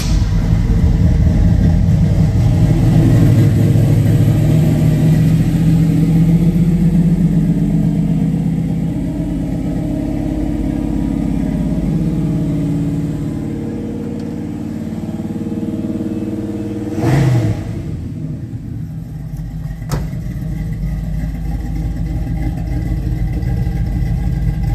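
A 1972 Chevelle V8 idles with a steady low rumble that runs the full length. Near the end there is one brief louder blip, and no voices are heard.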